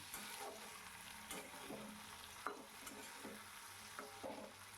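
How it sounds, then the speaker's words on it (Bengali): Chopped tomato fries in a pan and is stirred while cooking for a Bengali young jackfruit curry, with quiet sizzling under repeated close scraping strokes of a spatula. "টমেটোটা নরম হওয়া পর্যন্ত এটাকে ভেজে নিতে হবে"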